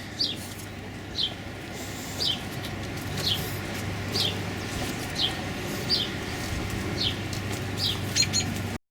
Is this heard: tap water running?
no